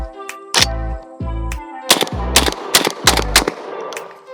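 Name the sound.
ATI Bulldog bullpup shotgun firing five rounds of birdshot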